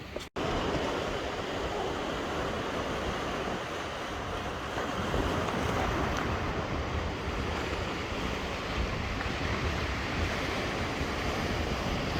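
Sea waves wash onto a beach as the tide comes in, a continuous loud surf roar mixed with wind buffeting the microphone, with no voices.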